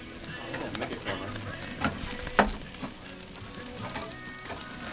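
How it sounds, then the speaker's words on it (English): Steaks sizzle on a hot grill with a steady, crackling hiss, broken by a few sharp pops and clatters, at moderate loudness and with no voices. "Just throwing some steaks out here."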